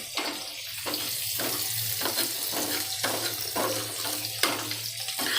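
Fish frying in hot oil gives a dense, continuous crackling sizzle close up, with bursts of louder spitting and popping recurring throughout.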